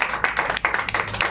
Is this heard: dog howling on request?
no